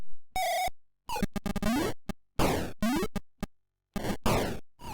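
Joust on the Atari 7800 console, a port of the arcade game, giving bursts of buzzy electronic sound effects in choppy clusters with short silent gaps between them, loud and close with no talking.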